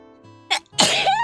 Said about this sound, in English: There's a sneeze building